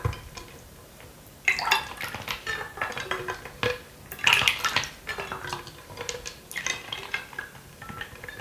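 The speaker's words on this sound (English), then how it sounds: "We try this spoon." A spoon handled and tapped in a quiet ASMR setting gives a steady run of close, crisp clinks and light clatters, some sharper taps standing out, with no talking.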